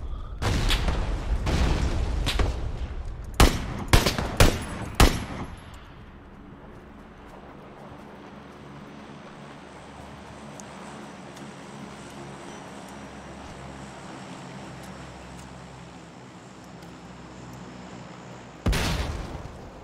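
A heavy-recoil gun fires in a video game: a burst of loud, close booming shots in quick succession, then quiet with a low rumble before one more blast near the end.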